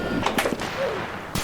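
Gunfire from a fast weapon in the Roblox video game, with a few quick, sharp shots in succession followed by another crack a moment later, moderately loud.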